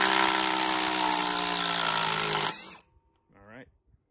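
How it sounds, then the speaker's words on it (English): A Ryobi impact driver backs out a lag bolt with a loud, continuous hammering whir for about two and a half seconds. It stops abruptly, and a short voice follows. "let's see if I can take out the Dewalt's bolt with the Ryobi"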